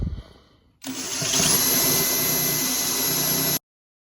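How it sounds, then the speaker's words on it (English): Power drill boring through the freshly painted body of a hot rod for a hidden gas filler, a loud, steady high-pitched whine lasting under three seconds that cuts off sharply. "there's nothing like drilling through fresh paint"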